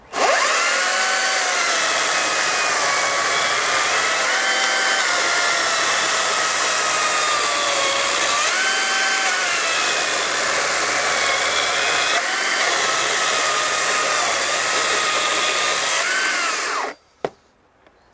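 A Makita 40V cordless chainsaw with a 13-inch bar and a freshly charged battery cuts through timber, its electric motor a loud, steady, close whine for about seventeen seconds before cutting off abruptly.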